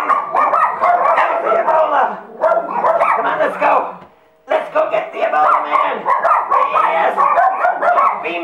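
A dog barks loudly and repeatedly in excited bursts at close range, mixed with loud voices throughout and a brief lull midway.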